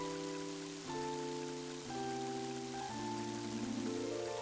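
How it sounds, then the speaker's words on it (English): Steady rain falling in the Mother 3 video game, a continuous even hiss that stays loud throughout, with sustained musical tones layered over it and no talking. "Oh, and it started raining."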